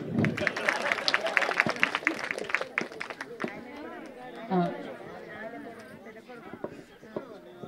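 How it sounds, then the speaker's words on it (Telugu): At a Meedi Doddi family get-together over a meal, a group claps in a short burst of applause mixed with crowd chatter, followed by someone speaking over murmuring voices in the room. "చప్పట్లు."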